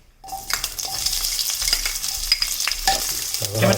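Chopped onions dropped into a hot pan burst into a strong sizzle that holds steady, with scattered clicks of a spoon stirring against the metal and a louder scrape near the end.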